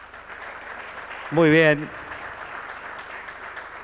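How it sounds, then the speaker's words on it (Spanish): Audience applause at a panel discussion on poverty, inequality and new forms of work, a soft steady patter of clapping with a short spoken remark rising briefly over it. "Tras el aplauso a los compañeros"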